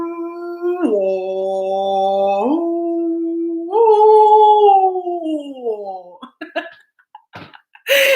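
A person imitates whale song with long, sliding, moaning tones, a sustained low call that bends down then rises and falls again, followed by a few short breathy sounds.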